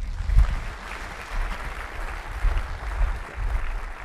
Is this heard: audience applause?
yes